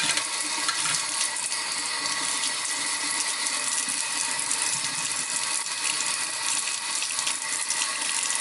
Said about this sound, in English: we're gonna use soap and water to clean all of our tools